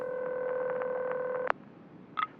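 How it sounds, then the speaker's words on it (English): Telephone line tone on an old landline while a call is put through to the police department, a steady buzzing tone holding for about a second and a half, then cutting off, followed by a brief faint blip. "Ringing the police department."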